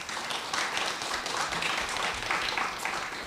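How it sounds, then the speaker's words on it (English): An audience at a panel discussion gives a dense, steady round of clapping that holds at an even level throughout before tapering slightly at the end. "Another round of applause for that."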